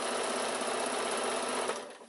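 A sewing machine back stitching through thick layers of a quilted evening bag, going over the straps, bag front, lining and wadding; a steady, loud, labouring mechanical whir that runs alone for about two seconds, then slows and fades.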